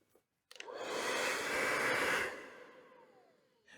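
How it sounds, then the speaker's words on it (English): A matte black Paul Mitchell hair dryer is switched on and blows a strong, close, breathy rush of air for about two seconds before cutting off and fading away. "Definitely more powerful than the other Paul Mitchell dryer."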